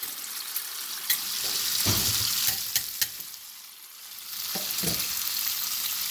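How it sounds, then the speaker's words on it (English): Oxtail meat sears in a hot pan, a steady broad sizzle with occasional louder crackles and clinks from stirring. "it is searing up real good"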